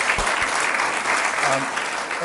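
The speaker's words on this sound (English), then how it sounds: "A round of applause for Georgette, Felicia, and everyone at the" Audience applause at a State of the Cities civic address for Colma and Daly City, a steady, dense round of clapping from a hall crowd, sustained and fairly loud throughout.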